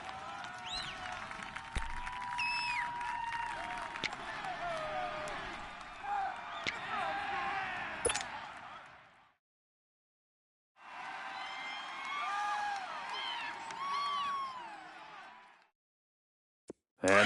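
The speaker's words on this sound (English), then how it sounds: "The crowd's not doing that O-line any favors." A stadium crowd in a Browns vs Ravens football video game roars steadily as home fans drown out the snap count, dropping to silence halfway before swelling again.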